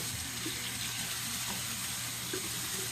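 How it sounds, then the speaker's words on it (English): Tap water runs steadily into a sink as it is rinsed out after dyeing synthetic hair extensions, a constant soft rushing wash with no talk. "I'm just going to rinse my sink out here real quick"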